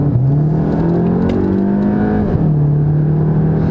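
Volkswagen Golf 7 GTI Performance with 245 hp accelerating hard, the engine note climbing steadily through one gear, then dropping at a shift and pulling again, loud and close as if from inside the car.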